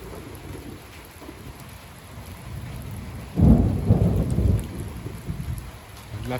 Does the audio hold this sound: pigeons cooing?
no